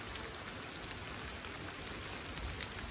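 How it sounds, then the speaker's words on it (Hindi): Heavy rain pouring steadily in a forest, a dense, even hiss of drops on leaves and surfaces close by, loud and unbroken throughout with no talking. "और बरसात पूरी तेज आ रही है इस टाइम,"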